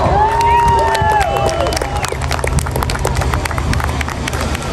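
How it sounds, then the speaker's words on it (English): An outdoor crowd at an air festival claps and cheers for a parachutist landing in the arena, a steady patter of applause with a few whoops near the start. "Nice round of applause for Lance Corporal Olagos."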